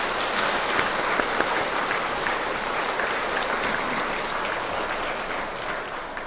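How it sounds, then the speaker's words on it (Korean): A church congregation in Korea applauds steadily after a Pentecost Mass announcement of newly baptized members, producing a dense, even wash of clapping that holds for several seconds and fades slightly toward the end. "세례를 받게 되시는 형제 자매님들께 박수로 축하의 인사를 드립니다"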